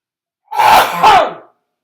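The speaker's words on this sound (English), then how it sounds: "first I gotta sneeze" A single loud sneeze in two bursts, a sharp intake followed by an explosive release, close to the mic and otherwise quiet.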